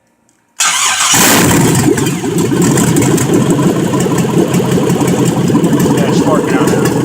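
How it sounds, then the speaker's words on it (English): A GM LS V8 engine cranks and catches after a brief silence, then settles into a loud, steady idle with a rumbling low end, close to the microphone. "It actually idles better than most shit that I own."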